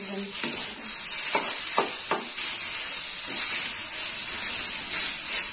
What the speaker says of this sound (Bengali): ধীরে ধীরে মূলো ভাজা হয়ে গেছে, আমি নামিয়ে নেব।